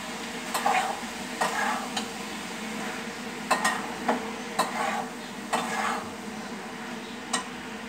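Chickpeas and diced potatoes are stirred in a pan with a soft sizzle throughout, a spoon scraping and tapping the pan in several distinct strokes close by, with no talk.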